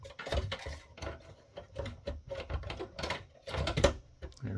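Plastic baffle refitted inside a Dell Optiplex 7010 small form factor desktop during a power supply swap: a run of close, sharp plastic clicks, taps and rattles in irregular bursts, with no speech.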